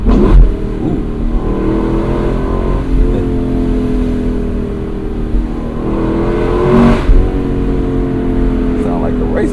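A 2025 Lexus LC500 Convertible's engine revs high with rising and falling harmonic sweeps, loud and close from the cabin, while someone talks over it at intervals.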